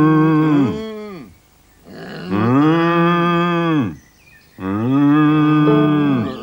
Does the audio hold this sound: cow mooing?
yes